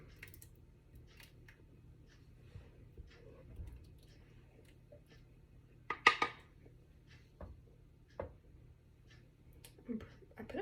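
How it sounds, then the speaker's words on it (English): Venison chili is spooned from a pot, with faint scattered scrapes and clinks of a utensil against the pot under a low steady hum, the loudest clatter around the middle. "I'm going to spoon out the chili and taste it"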